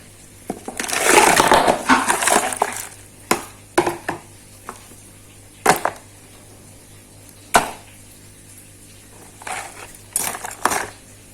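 Ice cubes dropped into a sweet drink with nata de coco and syrup, a burst of rattling clinks followed by several separate sharp clunks and cracks, close and fairly loud.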